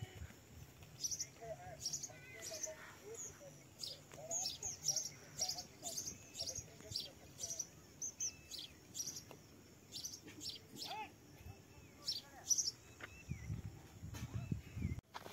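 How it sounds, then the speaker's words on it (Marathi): Sparrows chirp repeatedly around a farmyard where an animal is being fed hay: quick, bright twittering calls scattered throughout, with someone talking nearby and some rustling close by. "चिमण्यांचा चिवचिवाट."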